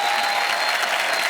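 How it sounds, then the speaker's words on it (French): Dense, steady applause from a studio audience at a televised comedy night in Pigalle, Paris, greeting a comedian. It sounds loud and close and fills the whole moment without a break. "Un maximum d'applaudissements pour monsieur Jeff Panaclock"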